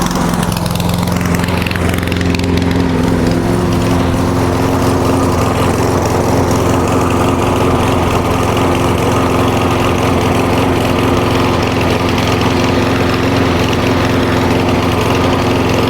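A lawn mower engine idles nearby, holding a steady, loud, unbroken hum with a slight vibrating rattle throughout, with no voices over it.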